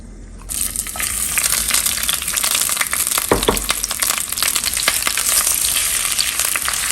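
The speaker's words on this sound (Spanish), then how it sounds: "En una cacerola con aceite vamos a agregar 3 cebollas." Three sliced onions dropped into hot oil in a pot, a loud crackling fry bursting in suddenly and holding steady with dense spitting and popping, close by.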